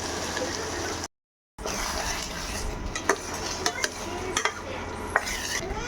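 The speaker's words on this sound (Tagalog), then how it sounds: "At ihalo na ang tomato sauce." Tomato sauce is stirred into spaghetti with hotdog in a pan, giving a close, wet sloshing and scraping with sharp clinks of the utensil against the pan over a low sizzle, broken by a moment of silence.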